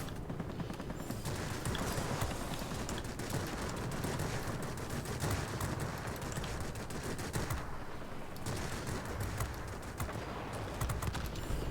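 Aircraft cannon fire from a Yak-9 fighter in the video game World of Warplanes, a sustained, loud rattle of rapid rounds continuing almost without a break over the roar of the engine.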